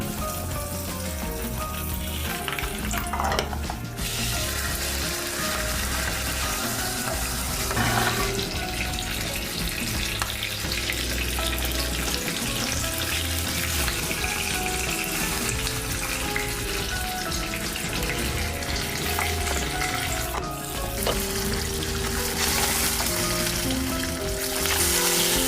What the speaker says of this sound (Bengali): এবার আমি মাছটা ভাজবো।